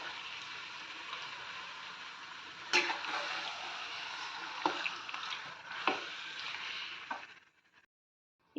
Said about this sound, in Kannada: ಇದಕ್ಕೆ ನಾನು ಮ್ಯಾರಿನೇಟ್ ಮಾಡ್ಕೊಂಡಂಥ ಚಿಕನ್ನ ಆ್ಯಡ್ ಮಾಡ್ತಾ ಇದ್ದೀನಿ